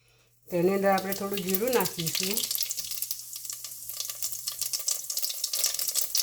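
Cumin seeds hit two spoons of hot oil in a pressure cooker for veg pulao, raising a loud, steady sizzle that carries on throughout. A voice speaks briefly over the start.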